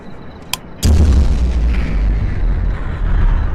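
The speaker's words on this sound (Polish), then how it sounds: "Czemu to był dźwięk takiej rakiety?" A sharp pop, then a sudden loud, deep roaring rumble that sustains steadily like a rocket blasting off, heavy low-end and no voices; a rocket launch sound effect in a Roblox game.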